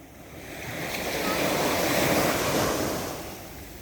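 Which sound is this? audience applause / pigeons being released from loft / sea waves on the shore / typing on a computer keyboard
sea waves on the shore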